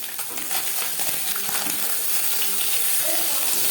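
Small puti fish frying in hot refined oil give off a loud, continuous hiss and crackle, close up and unbroken, with faint clinks of a utensil early on.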